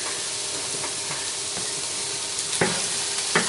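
Onions sizzling in a pan on a low hob setting for a stew, a close, continuous bright hiss with a few light scrapes and knocks of stirring toward the end.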